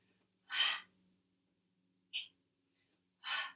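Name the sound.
forceful exhale during breathing exercise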